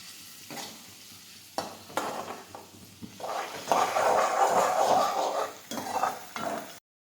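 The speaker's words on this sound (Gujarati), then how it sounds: "ટમેટા નાખીશું। હવે થોડી વાર ચડવા દઈશું।" Tomatoes cooking in a pan, with sizzling and frying broken up by several sharp knocks of a stirring utensil against the pan, growing louder toward the end.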